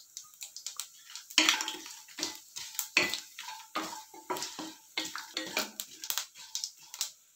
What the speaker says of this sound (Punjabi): ਜੀਰੇ ਨੂੰ ਭੁੰਨ ਲਿਆ, ਸਾਬ ਤੇ ਮਸਾਲੇ ਪਾ ਲੈਣੇ।